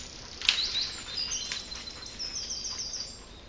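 Small birds chirp and call among trees in quiet woodland, short bright tweets scattered at middle distance over a soft background hiss, no one talking.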